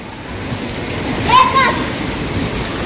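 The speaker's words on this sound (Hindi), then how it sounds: "बारिश बहुत ही ज्यादा तेज हो गई है इस वक्त" Heavy rain pouring down in a loud, steady hiss that holds throughout, with a brief faint voice-like sound rising above it in the middle.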